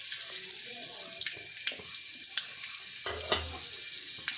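Garlic frying in oil in a home kitchen for an old Tulu Nadu recipe, a steady close sizzle with light stirring clicks and scrapes, one heavier splash of spatter near the middle.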